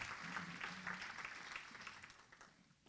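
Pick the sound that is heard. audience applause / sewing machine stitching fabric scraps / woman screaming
audience applause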